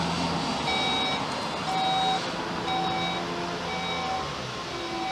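Warning beeper of a VW Touareg TDI power liftgate as it closes: a repeating series of short, evenly spaced electronic beeps over a steady background hum.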